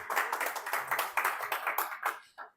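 A church congregation claps briskly and unevenly for a couple of seconds, with quick close-sounding hand claps that thin out and stop.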